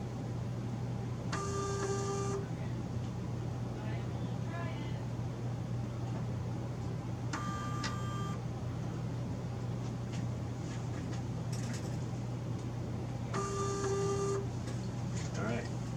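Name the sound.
antenna tuner motor drives running a test program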